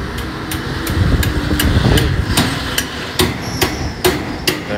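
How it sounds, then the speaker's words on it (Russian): Rebar being hammered into an asphalt surface while building a waste container site outdoors: sharp metallic strikes in an irregular run of about a dozen blows, loud and close over a low engine-like rumble. "Так как здесь асфальт, приходится забивать арматуру."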